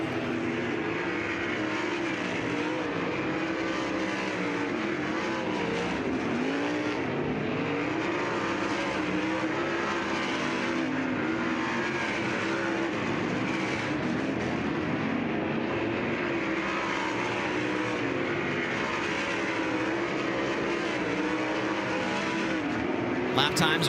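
Race cars lapping the Lucas Oil Speedway oval during a night practice session for Kubota High Limit Racing, engines roaring continuously and loudly throughout, with rising and falling passes under steady track noise and some talk.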